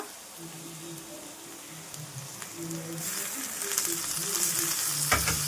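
Onions and tomato fry in a pan with a steady close sizzle and occasional stirring, the frying hiss swelling louder in the last seconds; no voices.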